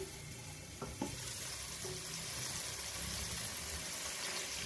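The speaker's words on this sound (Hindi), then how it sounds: "पानी मैंने और डाल दिया और इसको कवर करके रख दिया।" Water pours into a pot of pilau stock (yakhni) on a low stove flame, a steady soft liquid rush running throughout with a couple of faint lid or utensil knocks near the start.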